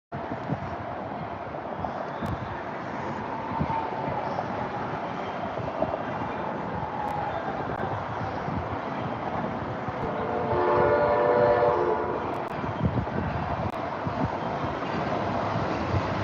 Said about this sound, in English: Ooh, another Amtrak.